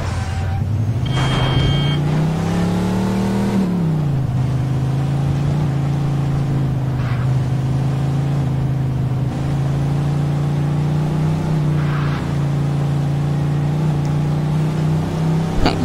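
A car engine drones continuously as it is driven in the 1940s-style crime game Mafia 2, revving up and dropping once early before settling into a loud, steady hum close by, with faint clicks and knocks now and then.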